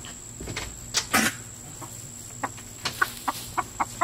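Chickens cluck in a coop, a few soft calls early, then a run of short, evenly spaced clucks toward the end, fairly close and moderately quiet, with faint background hum.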